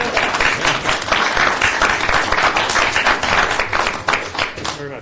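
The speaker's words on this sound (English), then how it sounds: "You can applaud." Sustained applause and clapping from the audience at a town council meeting, a dense steady patter filling the room for several seconds with some voices mixed underneath.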